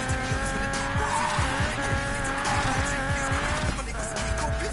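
Car racing off-road in a PS4 video game, its engine droning steadily with repeated sharp tire skids and squeals throughout, loud and continuous.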